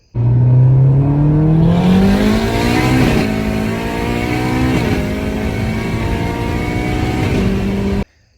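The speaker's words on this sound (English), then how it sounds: "check out this K-Series Miata with an 8 HP rowing through the gears and how good it sounds" A K-Series-swapped Miata with an 8HP automatic transmission revs hard, climbing through the rev range, with a couple of sharp, near-instant gear shifts dropping the pitch before climbing again. The engine is loud and close, and there is no talking.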